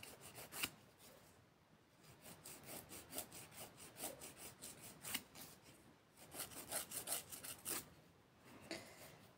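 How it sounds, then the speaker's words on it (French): An old nail file rasps back and forth across a fiberglass nail in quick, close, quiet strokes, coming in rhythmic bursts separated by brief pauses. "Oui, c'est une vieille lime, mais elle est très bien."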